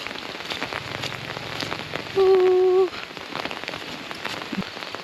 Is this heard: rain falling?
yes